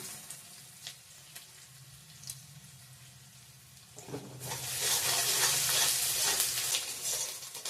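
Chopped ginger goes into a hot pan with chopped onion. Soft scraping and stirring give way halfway through to a loud, sustained sizzle and crackle close by.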